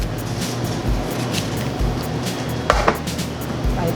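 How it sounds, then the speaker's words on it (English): A knife chops zucchini and potatoes on a cutting board, giving a steady run of close, crisp strikes at an even rhythm with no talking. "So I use like 3 potatoes and then cut them. Okay, zucchini."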